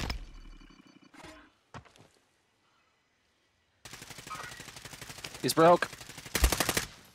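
Gunfire in the video game Warzone on the Caldera map: sharp short shots early on, then after a brief silence a dense rapid burst of automatic fire with a few louder blasts, while players talk over it.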